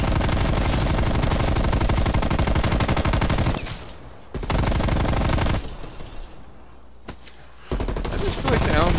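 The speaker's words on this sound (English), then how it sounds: "I just feel like the LMG just mows people down" A light machine gun fires in Call of Duty Black Ops Cold War Zombies in long, dense automatic bursts. The loud, rapid fire stops for short pauses, then resumes, over game noise with voices underneath.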